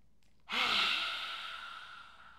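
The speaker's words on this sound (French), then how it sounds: "On inspire." A deep breath drawn in and slowly released during a relaxation breathing exercise, close and clear, starting abruptly after a brief quiet and trailing off gradually.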